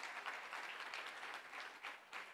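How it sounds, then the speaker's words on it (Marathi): Audience applauding at an award ceremony in Nashik, a dense, steady clatter of many hands clapping throughout, moderately distant with no voices on top. "त्याच्यासाठी जोरदार टाळ्या होऊन जाऊ देत."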